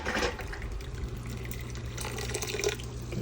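Glass canning jars and lids are lifted from a hot water bath, with water splashing and dripping back into the pot, close and steady for a few seconds.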